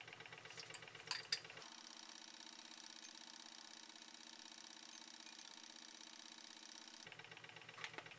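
Stirrer hums steadily while ice-cold 35% hydrogen peroxide is added, a faint continuous mechanical drone with a few light clinks near the start and a brief pause before it resumes at the end.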